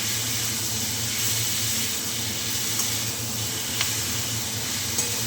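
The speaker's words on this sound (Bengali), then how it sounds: "এই যে আমি নাড়ছি।" Mutton pieces and fat being stirred in a hot cooking pan, giving a steady, loud hiss and sizzle with a low rumble beneath and a few faint scrapes.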